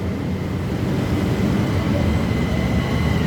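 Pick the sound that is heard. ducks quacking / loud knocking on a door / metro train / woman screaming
metro train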